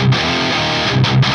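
Brief burst of high-gain electric guitar through an FAS AX8 modeler's 5153 amp model with presence turned up, a few quick muted chugs and a sustained chord, loud and alone.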